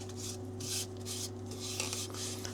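Rhythmic hissing strokes of rubbing sanding paste onto a wooden salad bowl repeat several times, close and moderately loud over a steady low mechanical hum.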